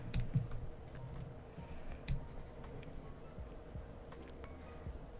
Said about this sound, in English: Sorry if you can hear the clickety clack of my keyboard.